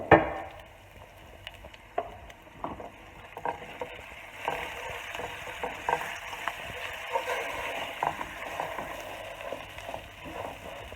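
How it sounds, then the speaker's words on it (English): Arborio rice toasts in hot oil in a pan, a steady soft sizzle with continual scraping and rustling as it is stirred, beginning with a sharp clatter and staying close and moderately quiet throughout. "just stir and make sure that all the rice is coated with some oil"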